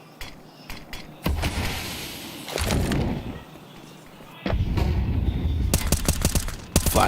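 Gunfire in a Counter-Strike esports match at IEM Cologne 2024, sharp bursts of shots mixed with dense clattering action, loud and irregular, with a commentator's voice partly heard underneath.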